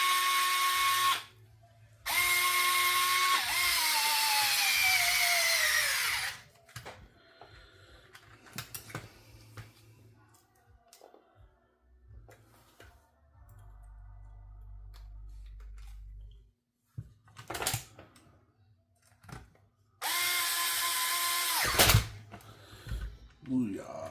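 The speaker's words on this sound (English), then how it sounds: "I let the drill just go its way because it doesn't have a torque setting" A cordless drill without a torque setting drives screws into an RC car shock tower in several loud whirring bursts that rise in pitch, separated by quieter pauses with handling noises and speech.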